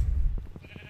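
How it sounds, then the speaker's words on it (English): A sheep in Minecraft gives a single short, wavering bleat, close and clear, right after a brief low thump. "Yes, there's sheep everywhere."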